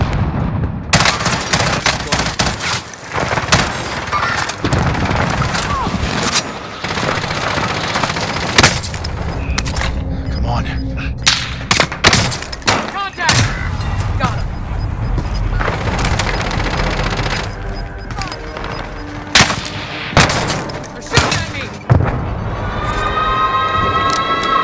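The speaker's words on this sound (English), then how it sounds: "They're shooting at me!" Sustained video game firefight: bursts of automatic weapon fire and sharp single shots crack close and loud over a rumbling battle bed, with a short quieter gap midway and an urgent voice calling out over the shooting.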